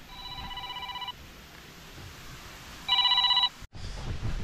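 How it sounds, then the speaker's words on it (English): Telephone ringing in two bursts, the first about a second long and the second shorter after a pause, at moderate loudness over outdoor background noise at a riverside cooking spot in Portland, Jamaica. "people are calling my phone"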